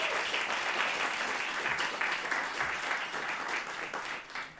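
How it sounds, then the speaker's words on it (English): Sustained audience applause at a live podcast launch event in a performance space, a dense, steady wash of many hands clapping that holds evenly throughout and tapers slightly at the end, with no talking over it. "Would you give a round of applause for them,"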